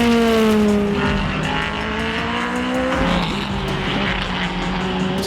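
Race cars at the Buriram circuit roar past close by, their engine notes climbing and dropping through gear changes in a continuous loud, overlapping drone.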